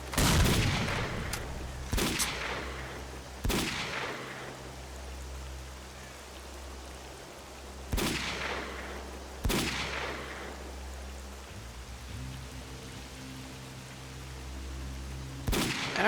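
Sharp gunshots in S.T.A.L.K.E.R.: Call of Pripyat ring out at irregular intervals, about seven single cracks spread apart over a steady rain-like hiss and low droning hum.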